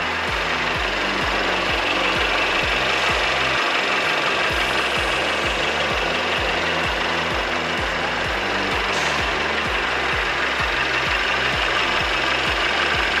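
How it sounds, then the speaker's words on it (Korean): A Mercedes-Benz E-Class W213 E300 4MATIC engine idles steadily, heard close in the engine bay, a rapid, even mechanical ticking and knocking with no pauses. "엔진 소리도 일정하고 좋습니다"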